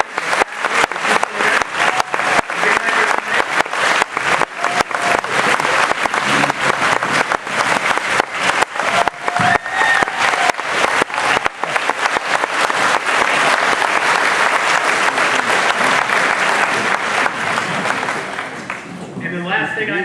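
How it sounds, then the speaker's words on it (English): A standing audience at a Silver Creek alumni banquet gives sustained applause, dense clapping that stays full and steady for about twenty seconds before thinning at the end. "we need to owe them a round of applause for coming tonight"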